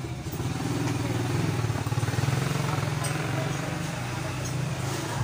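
A repaired electric fan motor runs with a steady low hum and light rhythmic clatter, close to the microphone, with a voice speaking over it.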